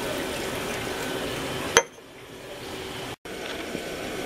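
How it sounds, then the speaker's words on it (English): Water pours steadily into a container with a soft, continuous hiss, then stops abruptly after a click, leaving quiet background. "Put the rest of the water in."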